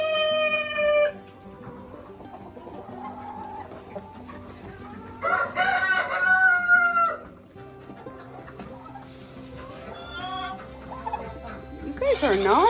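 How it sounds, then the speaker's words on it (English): A Delaware rooster crows loudly on a farm, a couple of drawn-out calls among other chickens clucking and gobbling in the background, with one brief burst of birds near the end. "This is one of the Delaware roosters we decided to keep."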